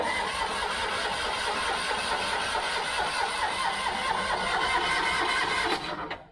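A Citroen Acadiane van engine cranking on the starter, a steady loud whirring churn for about six seconds before it cuts off, close up with no voices.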